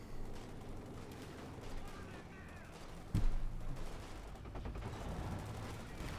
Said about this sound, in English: Target tank goes up, shoots, and gets a good hit there.